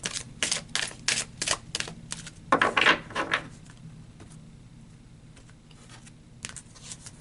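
Tarot cards shuffled by hand for a card pull, a quick run of crisp riffling clicks and flicks followed by one denser burst of shuffling, then a quieter stretch and a last few soft flicks, close and without talk.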